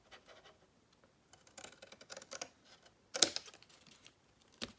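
Scissors cutting through a flap of a handmade paper gift box, a series of quiet, crisp snips and rustles in close range with a sharper cut near the end.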